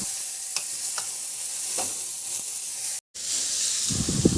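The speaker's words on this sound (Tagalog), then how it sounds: "Igisa ko muna yung bawang. Ihalo lang hanggang sa maglabas ng aroma at isunod ko na rin yung luya." Garlic and ginger sauté in hot oil in a pan with a bright, steady sizzle and a few light stirring taps, close up, then a brief cut to silence and a louder burst of spatula scraping at the end.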